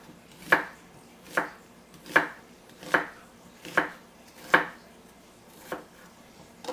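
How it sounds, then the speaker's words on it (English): A knife julienning onion on a cutting board, seven evenly spaced sharp chops landing roughly every 0.8 seconds, close and crisp in an otherwise quiet kitchen. "quick little julienne here"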